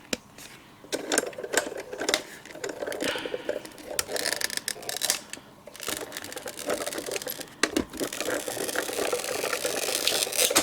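A Diamond Press die-cutting machine cuts plastic with a metal shim inside a folder, giving a steady run of close mechanical ticking and clattering that builds toward the end.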